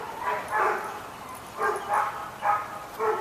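A neighbor's dogs bark and yip in short bursts at a moderate distance, several barks repeating irregularly over a quiet outdoor background.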